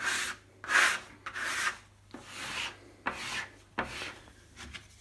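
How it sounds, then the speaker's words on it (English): Dough scraper dragged across a work surface to lift stuck bread dough, a series of rough rasping scrapes in uneven bursts, close and fairly loud with short pauses between strokes. "get your scraper back out and have a little scrape up just to release those bits"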